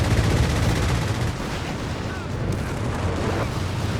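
Gunfire from a vehicle in a Company of Heroes 3 battle, firing ferociously at infantry as a dense, continuous roar of loud shots and rattling bursts that fills the whole stretch, with faint talk underneath.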